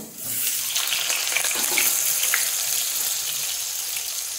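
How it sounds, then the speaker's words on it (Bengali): Potatoes frying in a pan with roasted sesame seeds, giving a steady, loud, hissing sizzle that holds evenly throughout. "এটার মধ্যে দিয়ে দিচ্ছি আলু। আলুগুলো আমি ভেজে নিব।"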